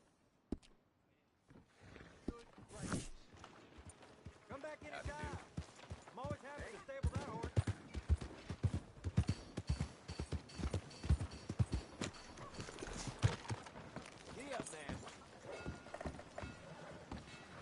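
Horse hooves clip-clop in Red Dead Redemption 2, a rapid, uneven run of close, sharp hoofbeats on hard ground with faint mechanical clatter, continuing under scattered voices.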